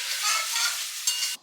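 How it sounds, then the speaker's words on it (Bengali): Onions frying in a pan for chicken curry give a loud, dense, steady sizzle close up, cutting off abruptly near the end. "এদিকে তো আমাদের চিকেনের ঝোলের জন্য পেঁয়াজটা ভাজতে বসিয়ে দিয়েছি"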